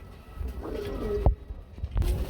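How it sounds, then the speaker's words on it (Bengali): King pigeons coo in low, rolling calls, close by, with a sharp thump or flutter partway through. "কিং কবুতর"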